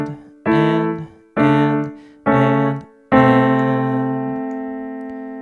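Piano plays the second half of the riff from a song, four separate chords struck close and clear with short gaps between them, the final chord held and slowly fading, no talking.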